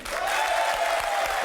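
Studio audience at a French TV game show applauds, a dense, steady wash of clapping from many hands heard close and loud for the whole short stretch, with a faint voice underneath.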